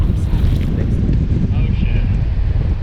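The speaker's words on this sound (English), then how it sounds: "Can't believe we're catching them in this wind." Strong wind on a grass-choked lake during bass fishing buffets the microphone with a loud, continuous low roar and rumble throughout.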